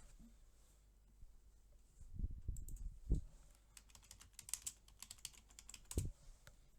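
Someone types a web search on a computer keyboard, a run of soft, close keystrokes with a few heavier thumps of the space bar, steady and unhurried with no talking.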